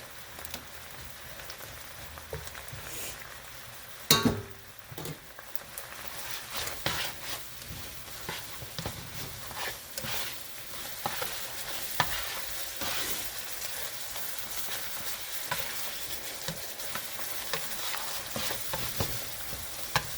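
Garlic being stirred into shrimp and vegetables that sizzle in a pan for a pesto pasta: steady close frying with scraping stir strokes and one sharper clatter early on, no talking.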